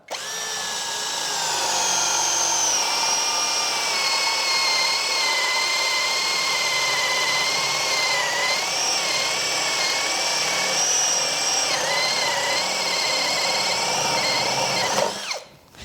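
A Hasston cordless drill boring continuously under load with a 32 mm spade bit, a loud, sustained whine with wavering pitch for about fifteen seconds before stopping abruptly.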